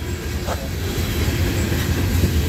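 A Norfolk Southern freight train rumbles past on the tracks in Homestead, Pennsylvania, loud and close, with a steady low roar and rhythmic wheel clatter filling the whole moment.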